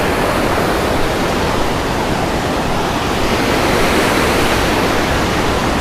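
Angry river water rushing over rocks along the Laurel River Trail in Pisgah, a steady, loud, close roar of churning whitewater with no pauses, filling the whole stretch alone.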